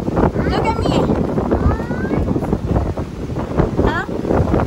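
Strong wind at a beach buffets the microphone in steady roaring gusts throughout, with voices talking over it.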